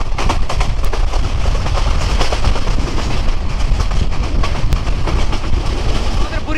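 The Burimari Express runs at speed on its Dhaka to Lalmonirhat route, giving a loud, continuous rumble with rapid clickety-clack wheel beats on the rails, close and unbroken throughout.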